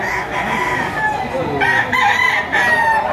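A gamecock crows loudly and close, its call rising and stretching out in a couple of bursts with clucking around it, while people talk in the background.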